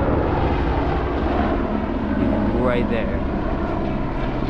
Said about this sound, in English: we're getting helicopters flying over about every, I'd say 5 minutes